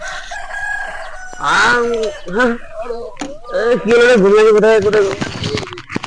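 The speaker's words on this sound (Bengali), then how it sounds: "পাখিতে ডাকছে" A rooster crows at dawn, two drawn-out rising and falling calls close by, mixed in with people talking loudly.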